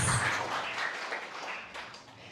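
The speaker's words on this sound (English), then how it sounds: "Let us all give him a resounding round of applause" A press-conference audience at La Salle claps for a board-exam top-notcher, a dense burst of applause that starts loud and gradually fades over a couple of seconds.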